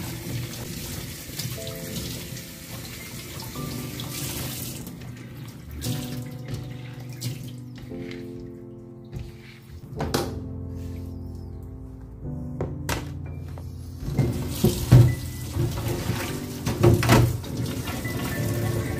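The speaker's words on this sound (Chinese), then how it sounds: "支撑架冲一冲" Tap water runs into a kitchen sink to rinse a dish rack after fish cleaning, a steady close splash with occasional knocks and thunks of the rack against the basin, growing louder toward the end.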